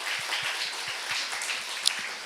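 A church congregation applauds during a Sunday worship service, a steady, even wash of many hands clapping with a few slightly louder claps near the end, without speech.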